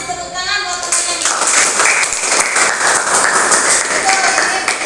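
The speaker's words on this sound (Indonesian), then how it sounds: "tepuk tangan buat teman-teman" Classmates in a school classroom applaud together, a dense, steady patter of clapping from many hands that starts faintly and swells after the first second, sustained and fairly loud throughout.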